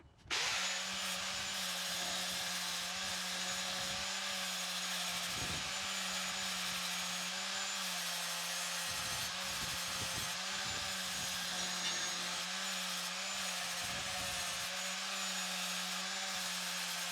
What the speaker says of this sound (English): I've grinded all that down, so it's nice and flat.